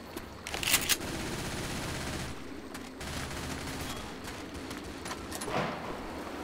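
Rapid, repeated pistol shots from dual handguns in the zombie shooter Left 4 Dead, a steady crackle of gunfire over constant background game noise, with a few sharper, louder cracks standing out.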